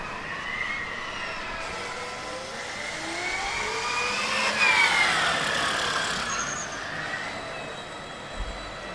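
Formula Student race cars running an endurance event on track, their high-pitched electric whines rising and falling as several cars pass at a distance, with a louder pass in the middle.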